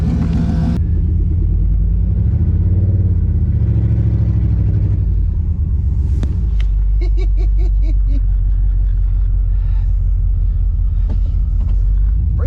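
A 1992 GMC 1500 pickup truck's engine drones loud and close while driving, with a low rumble, a rise in revs partway through and brief clicking and tones above the engine.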